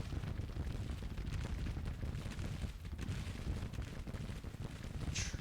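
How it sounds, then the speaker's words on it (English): Civil War artillery in a strategy game fires canister amid a dense, continuous roar of battle, with booming shots and crackling musketry layered into a steady, distant din. "We can see that Cutshaw's artillery is definitely working their way through their own canister."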